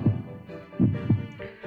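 A heartbeat sound effect in the Mr Love: Queen's Choice video game thumps in low, soft double pulses, three or four beats in steady rhythm with a faint hum beneath.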